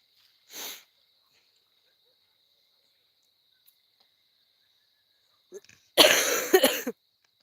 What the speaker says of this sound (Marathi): गाणं काढलं म्हणून खोकला आला